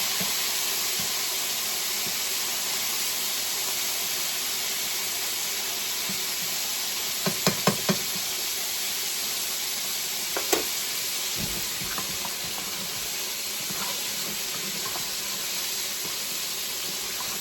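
Chicken sizzles steadily in a hot frying pan, with a few brief clinks and scrapes of a utensil stirring partway through.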